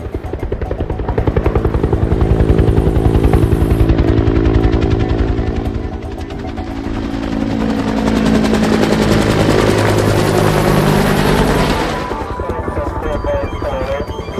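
A helicopter passes overhead in an action thriller, its loud, pulsing rotor chop building, easing off midway, then returning strong. Sharp rattling bursts that resemble gunfire and some voices sit in the mix.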